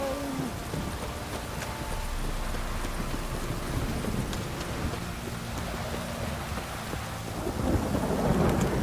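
Steady heavy rain pours throughout with rolling thunder rumbling underneath in The Witcher 3: Wild Hunt, a dense continuous storm with no voices.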